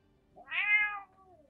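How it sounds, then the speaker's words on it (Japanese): A cat gives a single clear meow, rising and then falling, close and fairly loud against a quiet background. "誰だ猫いじってるやつは"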